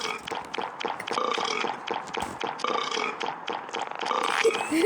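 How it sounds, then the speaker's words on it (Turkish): A long, loud, continuous burp rumbles on for several seconds, close up and uneven in texture, with no talking over it. "Ama geğiriyor."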